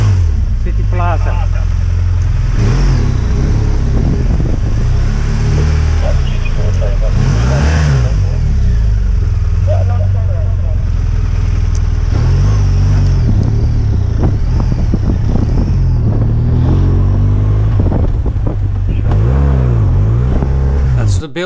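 Police motorcycle accelerating hard in pursuit of a scooter near a city plaza, loud continuous engine roar with repeated rising and falling revs close to the rider, with someone talking over it.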